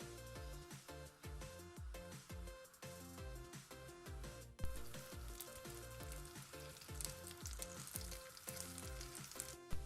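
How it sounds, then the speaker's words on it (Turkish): Raisins frying in butter in a small pan sizzle steadily with a crackling hiss throughout, close and continuous, with strong rhythmic tonal sound running underneath. "Küçük bir tavaya tereyağı ve üzümü alıp üzümler şişene kadar pişiriyoruz."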